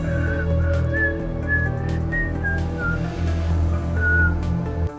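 Someone whistles a wavering, sing-song tune in short phrases over a steady low background hum.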